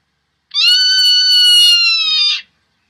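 Zone-tailed hawk call played back from the BirdsEye app, one long, loud, drawn-out descending scream lasting about two seconds, heard alone with no talk.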